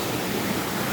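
A large river rushes in full spate during heavy rains in Chiapas, a steady, dense roar of water that is loud and close, continuous without a break and with no voices over it.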